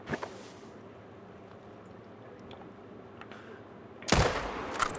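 A single sharp gunshot in a hunting video game, fired at an animal, crackles out loud and close after a quiet stretch of low ambient rumble.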